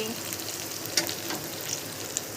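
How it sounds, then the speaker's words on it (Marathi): Bangda mackerel and mandeli fish fry in a pan with a steady, soft sizzle and a few faint crackles and pops. "बांगडा मच्छी फ्राय झालेला आहे मस्तपैकी आणि मांदेली पण फ्राय झालेली आहे"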